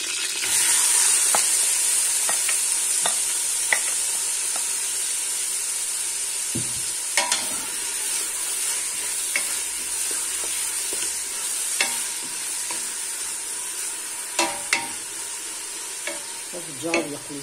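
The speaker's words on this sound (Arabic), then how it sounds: "أربع من البصل اللي يقلي" Onions fry in hot oil with a steady, close sizzle and hiss that runs throughout, broken by occasional scrapes and clinks of stirring, with no voices.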